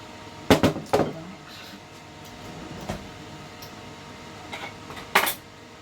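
A spoon scrapes chocolate gingerbread mixture out of a mixing bowl, giving a few sharp clinks and scrapes in small clusters separated by quiet gaps.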